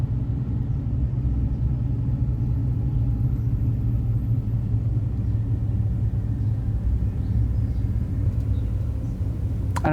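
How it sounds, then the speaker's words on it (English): Slow traffic crawls one lane at a time through portable traffic lights on a storm-damaged mountain road in Hickory Nut Gorge, North Carolina, a steady low engine rumble and tyre hum at moderate distance with no talk. "the traffic is going quite slow"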